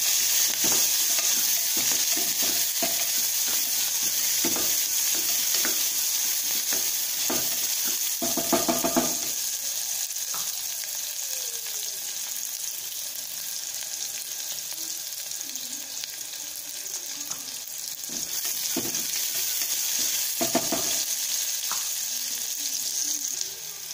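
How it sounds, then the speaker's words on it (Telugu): Onions and green chillies frying in a pan for tomato rice give a steady sizzle for the whole stretch, with utensil scrapes and taps stirring through it at intervals. "తర్వాత ఉల్లిపాయలు వేసి కొంచెం మగ్గనివ్వాలి"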